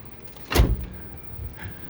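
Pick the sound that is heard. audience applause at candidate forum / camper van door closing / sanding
camper van door closing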